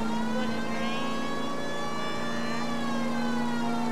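A steady siren wails out of a tunnel in the video game L.A. Noire, a sustained rising and falling tone that holds loud and continuous over faint engine rumble.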